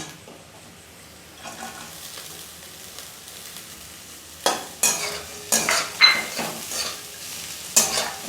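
Chopped potato tipped into browned onions frying in a pan for sujir upma, a quiet simmer giving way to a series of loud scraping stirs and clatters against the pan, close up and without talk.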